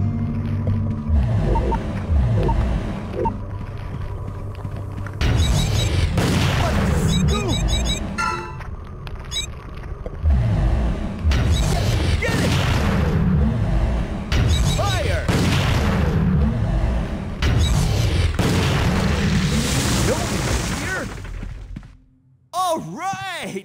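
Gunfire from the survival horror game Michigan: Report from Hell, with repeated booming shots over a dense, loud mix of game sound and speech.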